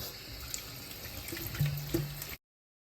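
Tap water runs steadily into a sink as bitter gourd is washed under it, a close, even splash with a few brief heavier gurgles before it stops abruptly.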